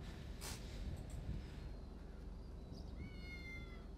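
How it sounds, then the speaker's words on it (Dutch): A cat meows in the video game GTA 5, one clear meow near the start, then quieter mewing cries later, heard over steady game background noise with no talk. "Het is gewoon een kat, joh."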